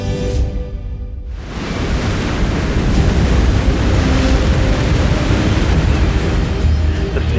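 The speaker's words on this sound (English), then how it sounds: "Waves were beating the shore like it was a personal vendetta." Sea waves pound the shore at Monterosso in the Cinque Terre, a loud, roaring wash of surf that swells after a brief lull and then churns on steadily, with some wind buffeting the microphone.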